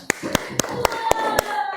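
Children in a science classroom clap together in a rhythmic burst of six sharp, evenly spaced claps, close and loud, with voices underneath.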